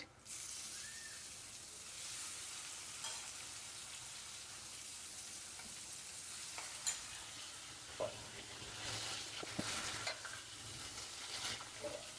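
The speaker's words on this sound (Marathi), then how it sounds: "कांद्याला लालसर रंग येईपर्यंत तेलामध्ये परतून घ्यायचा" Onion and tomato frying in oil in a pan for chole give a steady broadband sizzle and hiss, with occasional spoon scrapes and stirring knocks, close and continuous with no talking.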